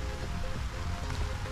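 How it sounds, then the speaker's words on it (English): Rain falls steadily on a cheap camping tent, a dense, even hiss and patter that stays constant throughout with no voices. "Still raining now, you can hear it."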